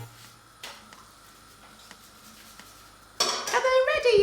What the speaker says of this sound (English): Quickly turn it over. I might use my spatula to help me this time.